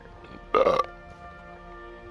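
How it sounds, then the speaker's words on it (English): A single loud, close burp lasting under half a second, made by a person right into the microphone during a Battle Island Commanders game session, with steady game music humming underneath. "I didn't mean to burp in your ear"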